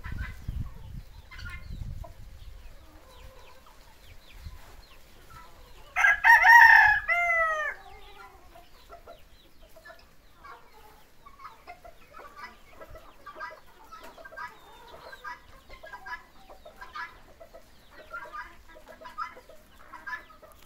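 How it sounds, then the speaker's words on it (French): Chickens, ducks and turkeys feed on cassava leaves on an African farm. A rooster gives one loud, close crow partway through, amid scattered soft clucks and chatter from the flock in otherwise quiet surroundings. "ils sont en train de manger, que ce soit le poulet, les canards, les dindons"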